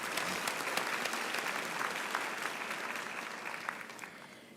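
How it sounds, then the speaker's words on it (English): Graduates at a university graduation ceremony give a sustained round of applause, broad and even, gradually easing off toward the end. "Give yourselves a mighty round of applause."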